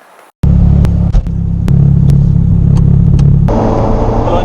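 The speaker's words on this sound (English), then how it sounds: "I'm currently driving a Ferrari 348 GT Competizione, one of 50 cars in the world" A Ferrari 348 GT Competizione engine heard from inside while driving, a loud, deep steady rumble with a few sharp clicks, rising into a brighter, harsher roar near the end as it accelerates.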